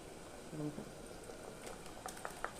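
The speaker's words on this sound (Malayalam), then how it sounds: "കറി നന്നായി തിളച്ച് വന്നിട്ടുണ്ട്" A pot of curry, made with ground coconut, garlic and shallot paste, boils at a low, steady bubble, quiet and close, with a brief murmur near the start.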